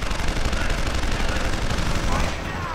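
Sustained automatic gunfire in Deus Ex: Human Revolution, a loud, dense rattle of shots with whooshing effects, tapering slightly near the end.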